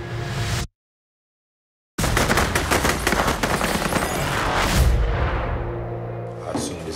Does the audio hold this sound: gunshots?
yes